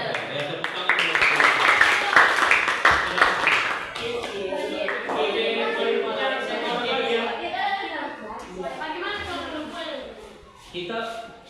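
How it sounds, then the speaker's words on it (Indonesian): A classroom of students claps briefly in a burst of sharp, overlapping hand claps for a few seconds, then a teacher's voice takes over as the clapping fades. "Ya, tepuk tangan dulu."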